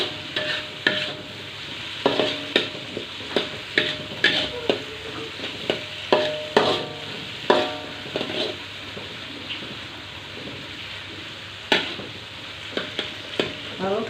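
Eggs sizzle steadily in a hot pan while a utensil stirs and scrapes, with frequent clacking strokes against the pan over a constant frying hiss.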